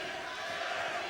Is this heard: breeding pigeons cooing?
no